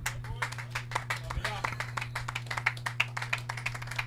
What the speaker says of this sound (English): As we hear the applause as Malantha comes off the field.